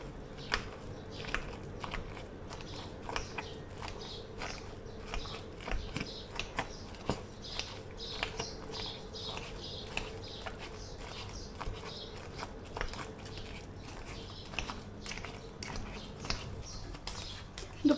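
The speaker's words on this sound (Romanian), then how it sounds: "Și continuăm să-i zdrobim în continuare." Boiled potatoes being mashed with salt and butter for creamy mashed potatoes, giving soft, repeated squishing and crunching strokes at a steady rhythm, close up, with no talking.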